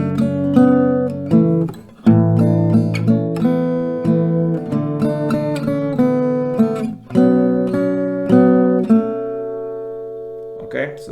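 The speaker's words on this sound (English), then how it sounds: "it sounds better to have this melody played with some strumming" Guitar picks out the melody with precise short down strums, a steady run of clipped notes with brief pauses, close and clear with no talking over it.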